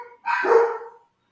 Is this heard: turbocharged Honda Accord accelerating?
no